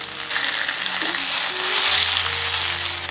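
Frozen carrots fry in a pan, a steady bright sizzle with crackling spatter, alongside a low hum from the stove area, close and continuous without speech.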